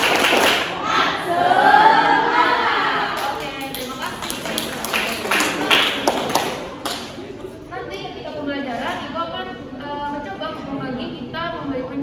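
A primary school class claps out a rhythmic 'tepuk semangat' cheer, a run of quick claps and taps over chanting voices, loud and close, fading into group talk.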